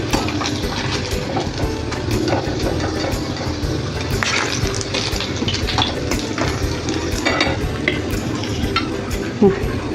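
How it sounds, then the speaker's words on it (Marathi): Finely chopped onion goes into the oil left after frying bombil fish, giving a loud, continuous sizzle with repeated stirring scrapes and utensil clinks close by, and no speech. "आता ह्याच तेलामध्ये आपण बारीक चिरेला कांदा टाकूया"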